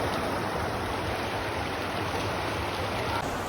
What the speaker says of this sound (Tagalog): Hindi na ganun kalakas ang alon. Yan, nanggagaling sa bundok.